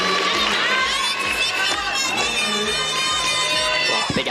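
At a bouldering world championship semi-final in Moscow, a crowd and team benches cheer and shout rhythmic encouragement, a dense, continuous roar of many voices with rapid chanting pulses.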